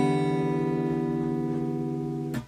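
A single guitar chord strummed on four strings rings out steadily and clearly for about two seconds before being cut off by a short muted scrape, close and alone.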